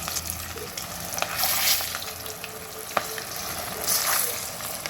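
Floured chicken pieces fry in hot oil. The bubbling is close and continuous, with crackling pops and brief scraping.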